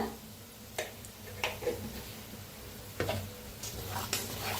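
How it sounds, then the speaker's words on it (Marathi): Cumin, asafoetida and turmeric sizzling in hot oil in a pan, a low continuous crackle with occasional sharper stirring scrapes, close and fairly quiet, no voices. "आता तेल चांगलं गरम झालंय, त्याच्यात टाकायचं आहे अर्धा चमचा जिरं, हिंग, थोडीशी हळद"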